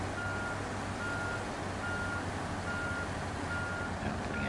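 A truck in SnowRunner backs up with a steady, evenly spaced electronic reversing beep repeating about once a second over a constant low engine rumble.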